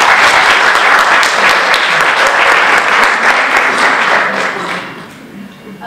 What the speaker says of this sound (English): so an applause for them